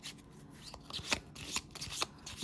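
A deck of tarot cards is shuffled up close with a run of soft riffling and tapping sounds. The brief bursts come in an uneven rhythm against a quiet background.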